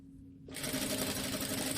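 A sewing machine stitches a seam on the wrong side of fabric: after a quiet start, the motor kicks in with a steady, close, whirring hum and rapid needle chatter that keeps going to the end.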